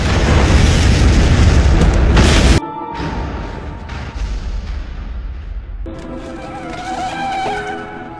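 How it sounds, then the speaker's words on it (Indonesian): An explosion in a Chinese drama film begins with a loud, dense roaring blast, then cuts to lower rumbling debris and tonal film sound. "Beberapa menit kemudian Li Shixing kaget dengan sebuah ledakan yang sangat mengguncangkan"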